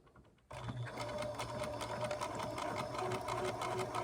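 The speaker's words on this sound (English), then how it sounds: "Sewing the real deal this time. Okay, so foot down." A sewing machine stitches fabric for a boat dinette, starting abruptly after a moment of quiet and then running in a fast, steady, close mechanical chatter, with a person speaking briefly.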